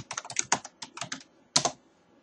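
Typing on a computer keyboard comes through as a close, clear run of uneven clattering keystrokes, then a pause and one final cluster of key taps.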